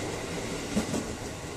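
A commuter train on the line between Nambo, Bogor, Depok and Jakarta Kota passes by, a steady broadband rumble of rail cars with faint wheel clatter throughout.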